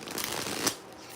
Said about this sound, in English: I'm trying to get a good shuffle.